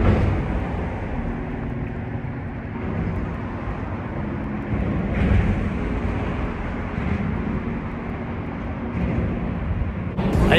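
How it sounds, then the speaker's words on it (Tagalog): Traffic passing over the Golden Gate Bridge in San Francisco on a rainy day, a continuous low rumble of vehicles with swells as cars go by, steady and fairly loud, no talking. "naririnig nyo naman dumadaan yung mga sasakyan"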